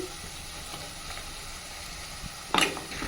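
Onion fries with ginger garlic paste, salt and turmeric in a pan, giving a low steady sizzle with soft stirring scrapes, then a brief louder burst of crackling near the end.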